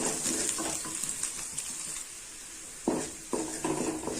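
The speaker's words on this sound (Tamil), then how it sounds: "ஒரு நிமிஷம் போல் பூண்டை நல்லா வதக்கி எடுத்துக்கலாம்" Garlic sautéing in a pan for a jackfruit-seed, dried fish and brinjal kara kuzhambu: a steady close hiss of frying with brief stirring scrapes, and bursts of louder sizzle near the end, no talk.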